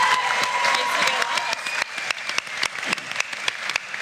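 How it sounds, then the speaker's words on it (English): A live audience at a charity Shark Tank–style pitch event breaks into a round of applause, dense clapping and some cheering that fades into scattered, sharper individual claps toward the end, with voices faintly underneath. "Let's give them a round of applause."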